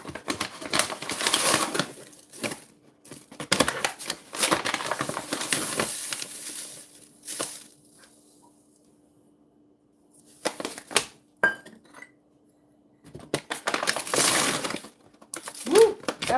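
White sugar pours into a container in loud bursts of gritty, clinking rattles, separated by quiet gaps.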